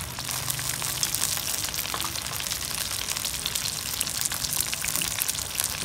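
Mushrooms sautéing in hot oil with turmeric and salt, a steady dense sizzle and crackle that holds evenly throughout, close and without any talking.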